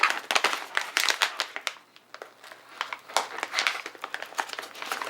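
Crinkling of a freeze-dried candy bag as someone struggles to open it, a close, busy run of crackly rustles that dips briefly before resuming.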